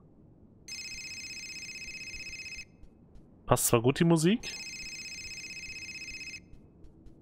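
A telephone rings in the video game Fahrenheit: Indigo Prophecy, a steady electronic trill in two long bursts separated by a short stretch of talk.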